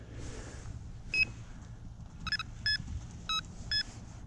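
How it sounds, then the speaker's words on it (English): Electronic fishing bite alarm on a pike rod in the Fens gives a short series of sharp, separate beeps. The bursts come irregularly as the line is pulled, over a low background rumble, with no voices. "fish pulls the line out of the clip, bite alarm sounds, and the line peels off"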